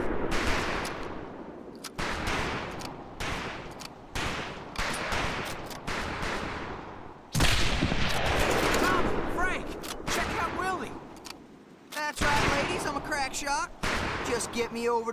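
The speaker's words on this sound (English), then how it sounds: "Talk is cheap, Private, but that's some pretty fair shooting" Rifle fire at a military training shooting range in Medal of Honor: Pacific Assault, heard as repeated loud, dense bursts of gunshots that pause briefly and resume, with voices talking over parts of the shooting.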